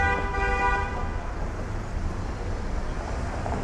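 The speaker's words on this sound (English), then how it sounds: "Who are these people honking at?" Car horns honking in city traffic on a Toronto street, a sustained toot sounding loud and close at the start, then fading under a steady roar of road noise.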